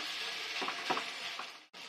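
Veggie pancake batter fries in a spoonful or two of oil over low gas, giving a steady close sizzle with faint crackles, briefly cutting out near the end.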